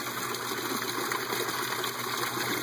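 Water draining steadily through an aquaponic bed siphon, a continuous close rushing gurgle with a faint steady hum beneath it, even in loudness from start to end, no talk.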